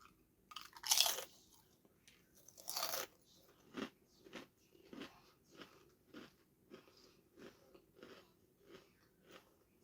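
Aunt Bessie's Christmas dinner flavoured crisps, Yorkshire pudding flavour, crunched close to the mic, with two sharp bites followed by a steady run of about ten softer chewing crunches and no talk.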